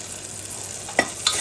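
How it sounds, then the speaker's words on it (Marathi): A steady hiss of red chilli powder, garam masala and turmeric frying in a pan, with a couple of soft scrapes of a spoon, close by and continuous. "मसाले घातल्यावर गॅस बारीक करायची आणि परत आपली फोडणी परतून घ्यायची."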